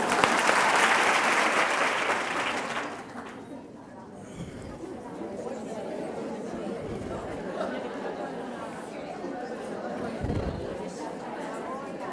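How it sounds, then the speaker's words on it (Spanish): An audience at a talk on teachers' emotional skills claps briefly and loudly, then the clapping stops after about three seconds, giving way to murmuring chatter, shuffling and people settling into seats. "Aplaudir y os sentáis, por favor."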